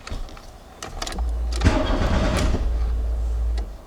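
A VW Golf GTI MK2 under restoration cranks over briefly and catches, then settles into a loud, close, steady idle that cuts off near the end.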